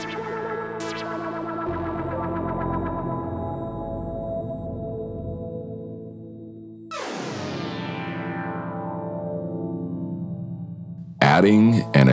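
A Nymphes synthesizer plays sustained, buzzy, filtered tones whose pitch sweeps and shifts as filter LFO modulation is applied. A sharp, bright burst of sound comes near the end.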